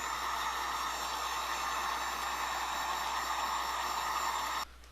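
A heat gun blows a steady, loud hiss of hot air over sneakers to shrink heat-shrink material around them, holding an even roar for several seconds before cutting off abruptly near the end.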